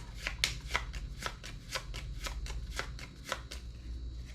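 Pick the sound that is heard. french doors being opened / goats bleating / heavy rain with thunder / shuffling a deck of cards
shuffling a deck of cards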